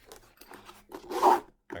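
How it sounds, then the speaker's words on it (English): A zipper on a paintball gear bag is pulled open in a few short raspy strokes, the last one longest and loudest, close up and alone. "So in here, if I can find the zipper, there it is."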